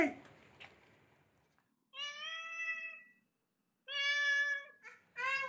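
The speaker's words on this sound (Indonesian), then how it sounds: "Oh, ada kucing namanya Manis ya." A cat meows twice, clear and close, each meow long and drawn out, with a short third call at the end; faint voices come before the meows.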